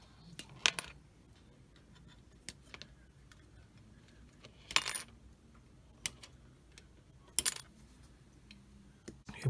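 Plastic parts of an Eduard 1/48 Bf 109E-3 model kit snipped off the sprue, with faint, sparse sharp clicks and small ticks in a quiet room.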